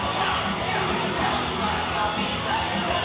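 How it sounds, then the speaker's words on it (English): A McMecken wrestling crowd gives a sustained ovation for the wrestler Keith Haught, a steady roar of cheering and applause with no breaks. "Keith Haught soaking in the ovation from this McMecken crowd"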